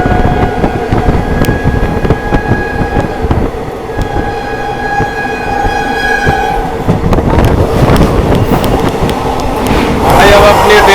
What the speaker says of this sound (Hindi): भाई अब अपनी ट्रेन निकल चुकी है प्रयागराज से।